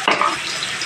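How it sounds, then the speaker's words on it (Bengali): Thin-cut potatoes with salt and turmeric hit a hot pan, giving a sharp burst of sizzle that settles into a steady, close frying hiss. "নুন হলুদ দিয়ে আলুগুলোকে একটু ভেজে নেব"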